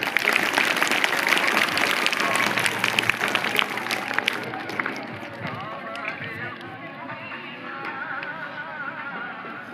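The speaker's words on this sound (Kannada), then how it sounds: "ಚಪ್ಪಾಳೆನ ತಟ್ಟಿ" An audience at a school farewell event claps, a dense burst of applause that fades gradually, with voices over it.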